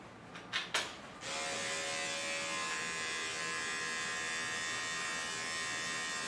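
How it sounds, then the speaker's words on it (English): An electric clipper with a thin blade starts with a few clicks, then hums steadily up close while cutting through matted hair on a Coton dog during a sanitary trim, with no talk. "I'm going to go ahead and use my clipper and come through and cut with it with a tin blade"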